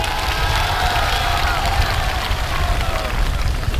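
Crowd at an outdoor CUF political rally in Gombani, Pemba, cheering and applauding in a dense, continuous wash of noise, loud and sustained throughout.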